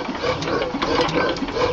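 A 14 hp Waterloo Boy gas engine runs without a muffler, a loud, steady mechanical chatter of rapid repeated firing and clatter filling the whole short stretch, close by with no talk over it.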